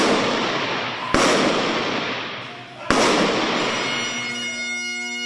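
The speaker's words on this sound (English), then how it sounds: "Volusia County's first end of watch for a K-9 unit member receives a gun salute" Rifle volleys of a gun salute at a sheriff's K-9 officer funeral, two loud sharp cracks about two seconds apart over steady outdoor noise, followed by a sustained ringing tone.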